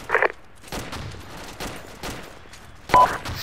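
Gunfire in a military video game, with a few distinct loud shots at the start and end and fainter scattered bursts between, all without talk.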